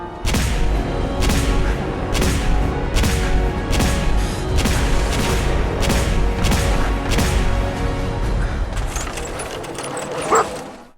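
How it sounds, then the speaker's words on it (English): Gunfire in the video game Fallout 4 bursts out in a string of sharp, loud shots at a fairly regular pace, with a few denser crackles near the end and no voices. "although this is a game focused around shooting things, the gunplay just feels a little off"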